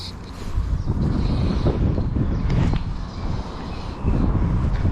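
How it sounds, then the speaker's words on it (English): Wind gusting steadily across a microphone outdoors beside the water, a loud continuous low rumble of buffeting with surges and dips, no voices. "Bit of a wind coming up there."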